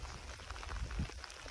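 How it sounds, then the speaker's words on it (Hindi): Steady, fairly heavy rain falling outdoors, a soft continuous hiss of drops with no one talking. "बारिश पड़ रही है, ठीक ठाक अच्छी बारिश पड़ रही है"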